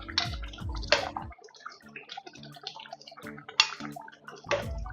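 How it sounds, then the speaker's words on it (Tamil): Pieces of fish drop into a simmering fish and mango curry with quiet splashes, plops and drips spread over a few seconds, soft and close. "இப்போ நாங்கள் மீன்களை பக்குவமாக போடுவோம்"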